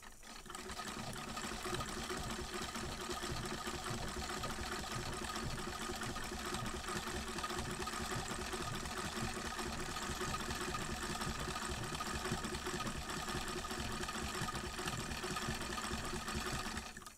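A Singer sewing machine fitted with a non-cam zigzag attachment runs continuously and loudly at a steady even pace, a dense whirring rattle with no pauses throughout.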